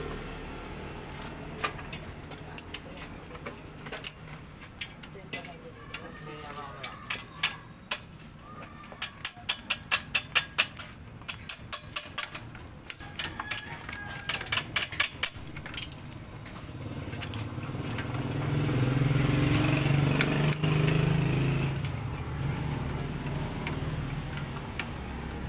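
Close metallic ticking and clinking of a wrench loosening the four bolts on a Honda Supremo motorcycle cylinder head cover, with irregular bursts of rapid clicks, no talk.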